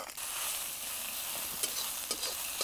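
Red chilli powder, onion masala and coriander powder sautéing in a pan, giving a soft, even sizzle with a few scraping stirs toward the end; no voices.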